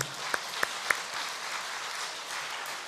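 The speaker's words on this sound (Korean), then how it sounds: "하나님께 박수." Congregation applauding during a Sunday church worship service, a steady wash of many hands clapping with a few sharp nearby claps standing out early on, no talk over it.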